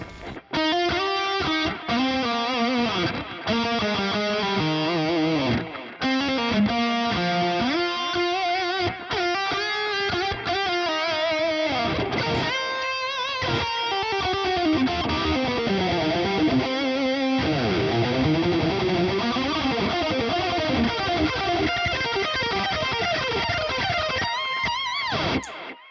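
Heavily distorted metal lead guitar through a Revalver 4 amp simulator, playing a continuous run of sustained bent notes and fast melodic phrases, loud and up front with no talking.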